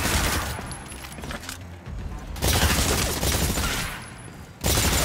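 Dense bursts of gunfire crackle during a live-fire training exercise in the Exoprimal video game, a sustained fusillade with two brief lulls before the shooting resumes loud and close.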